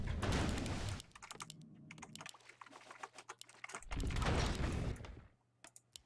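Computer keyboard keys clatter in rapid bursts during a gaming session, with dense loud typing flurries separated by quieter scattered taps and a low hum.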